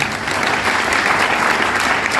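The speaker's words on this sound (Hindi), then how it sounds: "दीपक सर की जोरदार तालियां हो जाए।" Dense, steady applause from a seminar audience at a Vestige success event fills the whole stretch, loud and close with no break.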